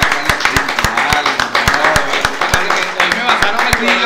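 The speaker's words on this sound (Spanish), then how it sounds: "Un aplauso para mi compadre Carlos Pinto." Rapid, close clapping from a small group of people at an electric grill cookout in Santiago de Chile, steady and even for several seconds, with someone speaking over it.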